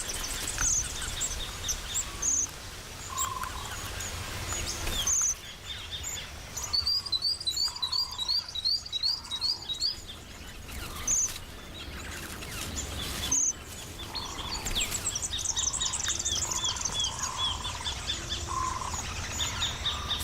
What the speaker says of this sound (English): A cousin of the red-browed finch has turned up out of curiosity. It's a diamond firetail.